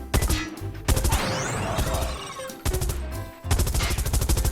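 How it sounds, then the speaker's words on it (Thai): Loud bursts of rapid gunfire in Call of Duty Mobile, several volleys separated by brief pauses, sharp and close with a dense rattling texture. "เสียงปืนค่อนข้างแน่นขึ้นนะ"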